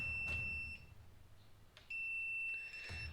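A Commercial Electric IP67 AC volt detector sounds its warning beeps when it senses power, thin high-pitched tones in short pulses, heard close and quiet against a faint room hum.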